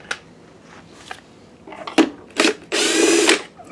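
Screws being removed from a BenQ HT2550 4K DLP projector with a power driver, a few short close whirs ending in a longer loud burst.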